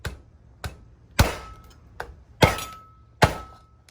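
Knife chopping through a lobster shell on a board, five sharp, separate thunks spaced roughly evenly, close and fairly loud, each with a brief ringing tail, no voices.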